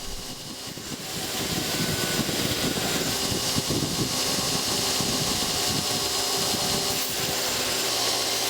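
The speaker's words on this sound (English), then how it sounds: "we can clean up the profile in the grinder, remove the excess material" Steady, loud grinding roar of a bench grinder shaping the profile of a hand-forged steel hatchet head, removing excess material, continuous and close for the whole stretch with no talking.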